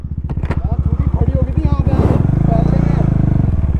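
A KTM Duke 390 BS6 motorcycle engine revs with a steady pulsing idle that climbs in pitch, close and loud, while someone talks over it throughout.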